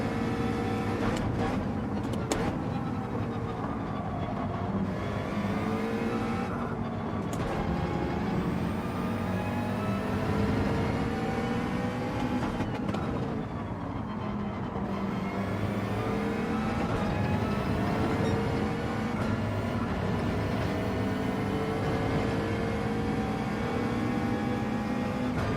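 Racing car engines in Gran Turismo 7, a continuous loud drone with rising and falling pitch sweeps as cars accelerate and shift, steady throughout with no talk.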